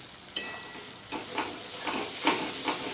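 Spiced yogurt masala for aloo dum being stirred and fried in a pan, a steady close sizzle broken by several soft scraping stirs at irregular intervals, with no voices.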